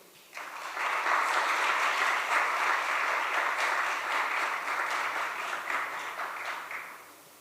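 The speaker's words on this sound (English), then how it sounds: "And another round of applause, please." An audience applauds dancers after a performance at a talk show event, a dense, even wash of many hands clapping that swells quickly, holds for several seconds, then tapers off.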